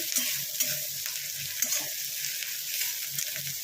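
Onions frying in a pan for a kidney bean curry, a steady sizzle with soft stirring scrapes and light clinks at irregular intervals, close by and with no talking.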